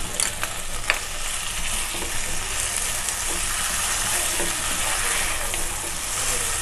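Chicken liver with about two spoons of yogurt fries in a pan for kaleji khara masala, a steady loud sizzle with scraping stirs and a few sharp clinks near the start, no talking.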